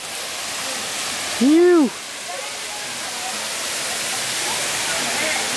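Steady broadband rush of Tak Tak Falls, a waterfall on the north side of Siargao in the Philippines, roaring continuously from close by, with a brief exhaled voice near the start.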